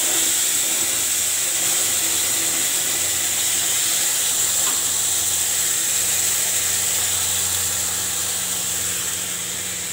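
Whole cumin, bay leaf and garam masala frying in hot oil for a katla fish kalia, giving a steady, close hiss that holds evenly throughout with no voices.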